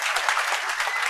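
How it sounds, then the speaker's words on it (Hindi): Brief burst of dense, bright clapping from an audience at a gathering, steady and close throughout with no talk over it. "इसलिए नवीन जी के लिए एक बार फिर से ताली बजाओ देखिए"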